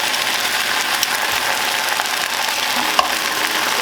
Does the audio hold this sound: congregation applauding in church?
no